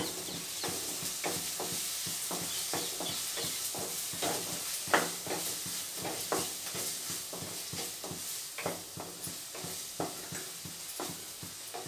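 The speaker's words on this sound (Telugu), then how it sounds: "ఇవన్నీ బాగా ఫ్రై చేసుకుందాము" Masala curry with ginger-garlic paste and spices frying in a pan, a steady hiss and sizzle with repeated scraping stir strokes throughout, close and moderately loud.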